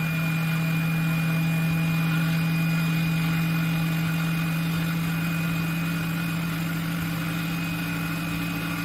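A small DC motor drives two flywheels at around 3000 RPM, a steady loud hum with a constant whine running unbroken and alone throughout.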